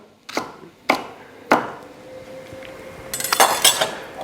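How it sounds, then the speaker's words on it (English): A knife chops okra on a board in three sharp, evenly spaced strokes, followed by a quick cluster of clinking, rapid cuts. "this okra I'm just going to chop roughly 1 centimetre"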